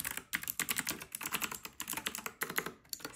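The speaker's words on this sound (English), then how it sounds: "I'm gonna show you just how it sounds typing." Fast, clicky keystrokes on a DIERYA DK61se 60% wired mechanical keyboard with blue switches, close and crisp in an irregular typing rhythm with no talking.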